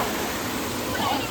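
Small waterfall in Goa, a steady broadband rush of falling water, close and continuous for the whole moment with no other sounds on top.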